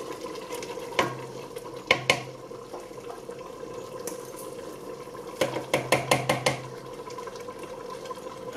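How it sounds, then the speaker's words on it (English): Ground egusi seeds going into a pot of soup that has been boiling on medium heat, heard as a run of clinks and stirring taps against the pot over a steady bubbling simmer, with a quick burst of clatter near the end. "It's now a good time to add the egusi."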